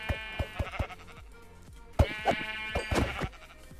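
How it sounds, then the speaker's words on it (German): Sheep bleat in the video game Minecraft, with a quick series of short nasal bleats, a pause, then another louder burst of several bleats, close and clear. "Oh, das ist ein Schaf."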